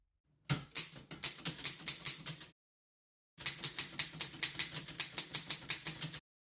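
A typewriter clatters in two steady bursts of rapid keystrokes, close and crisp, with a brief silent pause between them and no voice.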